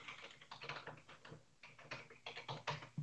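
Fast typing on a computer keyboard during a live chat, a steady patter of close, quiet key taps with brief pauses, no talking.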